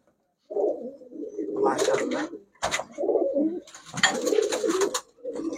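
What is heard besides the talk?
pigeon cooing, male pigeon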